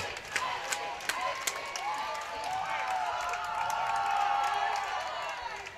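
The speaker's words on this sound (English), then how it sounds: "based on the noise in the crowd, you have to say that Sierra travels very well" Spectators at a men's community college water polo third-place game between Long Beach and Sierra, a sustained crowd roar with scattered cheers, claps and whoops building midway, heard under a commentator's voice.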